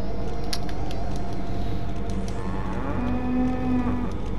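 Cow mooing in the video game Goat Simulator, a single long, low, drawn-out moo rising out of steady background game noise near the end.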